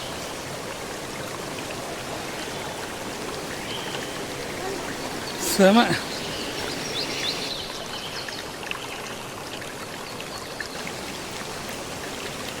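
Mountain waterfall water flowing and splashing over rocks, a steady close rushing wash throughout, with a short voice exclamation partway through.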